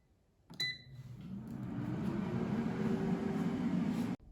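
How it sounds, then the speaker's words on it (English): An air fryer cooking frozen samosas at 380 degrees Fahrenheit, starting with a click and short beeps, then a steady fan hum and whir that builds and runs evenly before cutting off abruptly. "Now while the air fryer is cooking"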